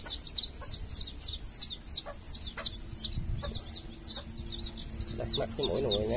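High, repeated chirps and clucks from young jungle-hybrid chicks, about three weeks old, during vaccination, close and busy, with low handling noise and a brief voice near the end.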